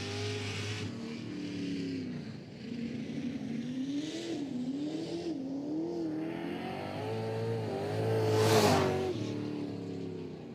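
Two-seater Mustang super saloon race car at an Ashburton speedway meeting, its engine droning and revving loudly with rising and falling pitch, then a louder surge near the end as it passes close.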